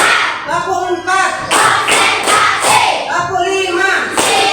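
A classroom of children claps together in a steady rhythmic group routine, the loud, evenly spaced claps mixed with their chanting voices close by.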